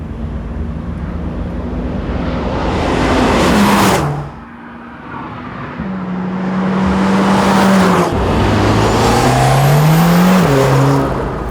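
A Mercedes-AMG A45 S on the Jarama race circuit near Madrid, its engine loud and close as it revs hard through the gears, with a brief lift-off dip midway before pulling strongly again with rising tone.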